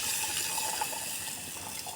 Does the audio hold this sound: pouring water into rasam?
yes